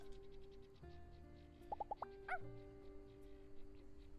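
In a video game, a human voice imitates a dog with a short burst of high yips and a bark, heard over a steady tonal background and faint music.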